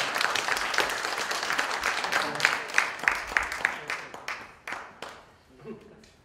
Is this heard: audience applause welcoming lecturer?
yes